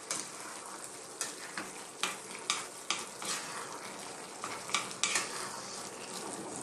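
Tomato curry sauce for a sweet potato curry turned down to simmer in a pan, giving a soft continuous sizzle and bubbling with intermittent stirring clicks and scrapes, close and quiet.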